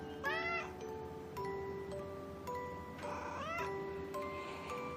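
A cat meows in a playful acting game, two drawn-out rising-falling cries close by with a steady tonal hum and faint background noise between them.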